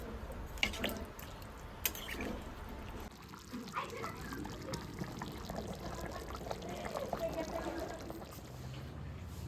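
Water is poured into a pot of browned, spiced meat cooking at home, a soft faint trickle and splash heard beneath a person talking.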